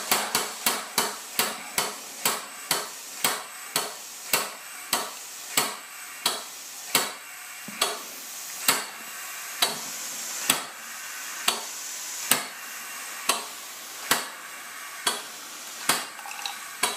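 A Southworth 12 inch steam pump running at 50 psi on an air and water test, giving a steady train of sharp, loud mechanical knocks about twice a second, close up and with no talking.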